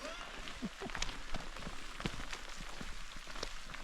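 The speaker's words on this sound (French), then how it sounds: "Ça y est, la pluie est là." Rain patters steadily on a hiking trail on the GR 66 loop around Mont Aigoual, a soft continuous wash of drops with a few louder taps and faint voices underneath.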